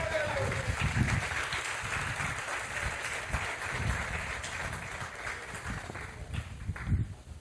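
A church congregation applauds during a sermon, broad sustained clapping with low rumbling thumps and a few voices, fading slightly toward the end before a final swell.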